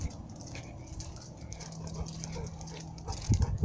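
A dog whimpers and whines softly in short high-pitched bursts on a house porch, with faint pattering and movement underneath, close and fairly quiet throughout.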